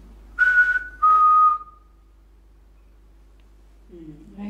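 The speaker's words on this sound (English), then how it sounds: "It's quite faint, but there is definitely a whistle there." Two short, high whistles sound in quick succession at an old fort, the second trailing off into quiet, followed after a pause by a brief, faint, lower sound.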